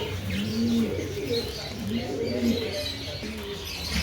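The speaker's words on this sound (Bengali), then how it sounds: "খুবই সুন্দর এক জোড়া কবুতর।" Pair of pigeons cooing at a pigeon seller's loft, repeated soft low coos with some chirps, fairly close and steady throughout.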